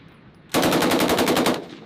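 A 7.62mm tank machine gun on an M1 tank fires a loud, rapid burst of roughly a dozen evenly spaced shots, lasting about one second, with no talking.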